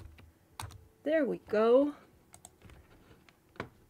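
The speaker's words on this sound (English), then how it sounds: "I'm also on a unfamiliar keyboard" Scattered light key clicks from typing on an unfamiliar computer keyboard, soft and close, tapping irregularly around a short spoken remark.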